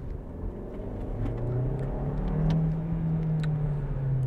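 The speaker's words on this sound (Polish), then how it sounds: "30 na godzinę, gaz podłogę." A Hyundai Tucson N Line with a 1.6 T-GDI engine and AWD pulls away from 30 km/h at full throttle, its engine note rising steadily and growing louder over a few seconds, heard from inside the car with no talking.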